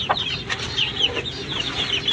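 Backyard chickens cluck and murmur close by, a scattered run of short clucks and soft calls from several hens, steady and unhurried with no talk.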